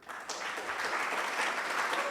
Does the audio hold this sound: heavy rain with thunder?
no